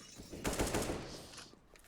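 Rapid bursts of pistol gunfire in a CS:GO match on the Inferno map, a brief cluster of sharp cracks peaking mid-clip and tailing off into faint echoes, fairly quiet and with no talk.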